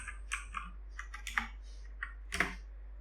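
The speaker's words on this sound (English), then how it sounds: "I would like to use the R keyboard key" Computer keyboard keys pressed one at a time, about a dozen crisp clicks at uneven intervals, close and alone with no talking.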